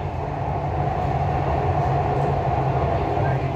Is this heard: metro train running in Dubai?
yes